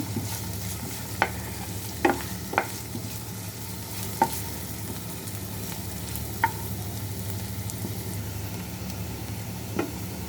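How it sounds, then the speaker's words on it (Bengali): Onions fry to brown in a pan with a steady, close, even sizzle, broken by a handful of sharp clicks as a spatula stirs and taps the pan. "পেঁয়াজটা বাদামি করে ভেজে নেব।"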